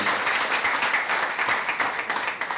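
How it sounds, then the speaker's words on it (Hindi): An auditorium audience applauds to welcome a speaker at a corporate event, giving dense clapping that stays strong and then thins into scattered individual claps toward the end. "प्लीज तालियों से प्लीज स्वागत करें"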